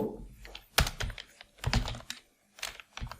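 Quick bursts of typing on a computer keyboard, keys clicking close and fairly quiet in short uneven runs with a brief pause.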